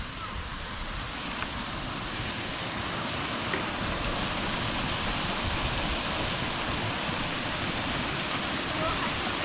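Water pouring steadily through a lock gate at Khandarani Lake, a continuous broadband rush like surf or a small waterfall, fairly loud and close, with no break across the whole stretch.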